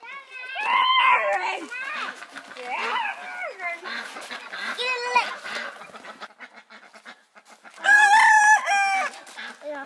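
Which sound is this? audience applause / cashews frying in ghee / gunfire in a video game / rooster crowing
rooster crowing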